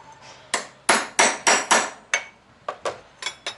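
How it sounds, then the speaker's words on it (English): A hammer repeatedly strikes a chisel set against a wire connector, about a dozen sharp, loud metallic blows in an uneven rhythm, close by with no talking. "then I'll just hit that with the hammer"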